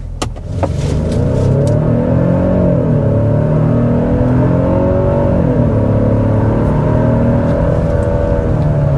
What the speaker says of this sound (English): we need to go ahead and get started with a hard acceleration